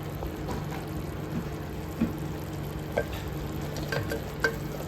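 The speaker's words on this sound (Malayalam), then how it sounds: "പച്ചമണം മാറുന്നത് തന്നെ ഇളക്കി കൊടുത്തോണ്ടിരിക്കാം" Homemade garam masala frying in a pan for a Kerala-style egg kurma, with a steady close sizzle and a few soft scrapes and clinks from the stirring spoon.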